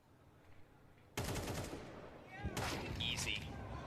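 Gunfire in the video game Counter-Strike during a major tournament match, sudden sharp bursts of rapid shots over a commentator's voice, loud and close with a second volley a moment later.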